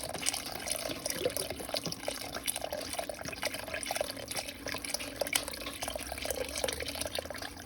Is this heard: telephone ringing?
no